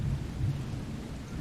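A low, continuous rumble of thunder with rain falling in the video game The Sinking City, steady and moderately loud, no voices over it.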